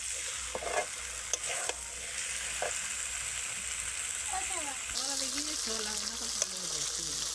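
Crocodile fish curry masala sautéing in oil in a pan, a soft continuous sizzle with sharp spatula clicks and scrapes, while a faint tonal sound wavers in the background during the second half.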